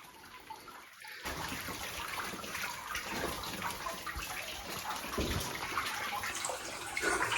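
Water sloshing and splashing as someone wades knee-deep through a flooded old mine, a continuous close churning with a brief lull near the start and no talk.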